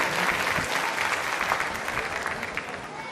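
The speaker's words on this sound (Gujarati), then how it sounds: "તાળીઓથી એમને આપણે વધાવીએ." An audience at a community get-together function applauds, a dense sustained wash of many hands clapping close by that gradually tapers slightly toward the end.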